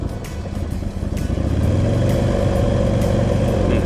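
A Buell XB12Ss motorcycle engine rumbles close by, its low, uneven idle swelling as the throttle is blipped and then holding a louder, steady growl.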